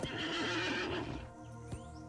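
A horse in the online game Lord of the Rings Online gives one loud, close whinny that trails off into quieter game ambience, with a single hoof clop near the end.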